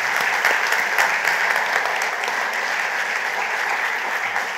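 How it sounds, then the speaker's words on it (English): Audience at Grenada's cultural and creative industries event applauding the organizers, a full, even round of clapping from a large crowd that holds steady throughout. "Please give them a round of applause."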